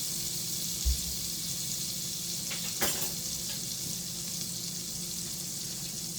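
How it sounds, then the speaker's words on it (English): Onions sizzling in butter and olive oil in a pan, a steady close hiss running evenly throughout with one or two faint clinks and no speech. "Okay, so I added some butter, and I'm going to throw in the onions."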